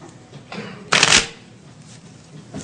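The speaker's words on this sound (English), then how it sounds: "Shuffle some more? Yeah, shuffle as long as you want." A deck of playing cards is shuffled at a magician's table, with a sharp riffling burst in the middle and softer handling around it, close and without speech.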